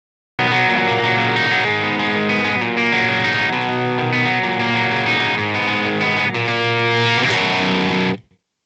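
A distorted electric guitar plays the opening of a song, standing in for the usual acoustic part. Loud sustained strummed chords ring out steadily for about eight seconds, then cut off.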